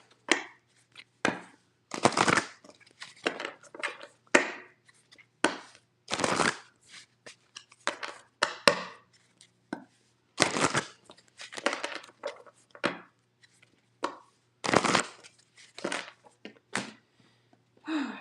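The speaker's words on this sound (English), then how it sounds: "Shuffle the shit out of them decks." Tarot cards shuffled by hand in repeated bursts of riffling and slapping, with short pauses between, close and fairly crisp with no talking.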